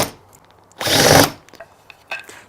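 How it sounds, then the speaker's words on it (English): A power drill bores into a wooden sign in one short, loud burst of about half a second, followed by faint clicks and handling noises nearby. "Just drill 2 holes in there."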